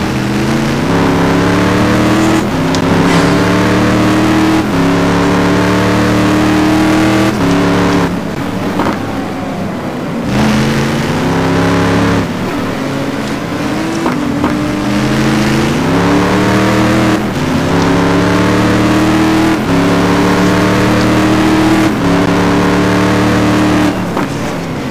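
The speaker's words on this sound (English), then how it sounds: "David Poel aboard big Ford GT1" A big Ford GT1 race car engine screams through repeated upshifts, the pitch climbing and dropping again in a steady cycle, loud and close, during a racing game event at the Nurburgring.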